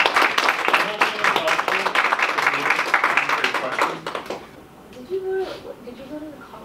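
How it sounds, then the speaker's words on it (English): College classroom students giving a round of applause, steady dense clapping for about four seconds that fades out, followed by faint voices. "Hey, I thank you guys for giving him a round of applause."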